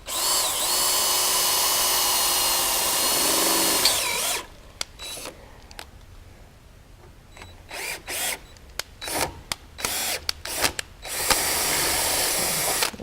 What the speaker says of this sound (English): I'm just going to pilot drill this.